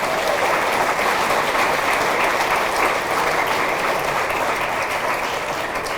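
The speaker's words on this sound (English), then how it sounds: "Let's give them a big round of applause." A crowd at a high school athletic hall of fame ceremony gives sustained, loud applause, dense clapping holding evenly throughout without talk.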